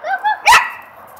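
A puppy gives a single sharp, close bark during play with a frisbee, preceded by a couple of rising whiny yips, loud and clear with no one talking over it.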